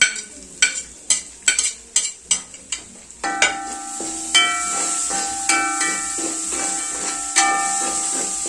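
Two finely chopped onions (sliced big onions) go into a hot pan for a manjal masala: a run of sharp, evenly spaced knocks, then a steady, loud sizzle broken by repeated scrapes of stirring.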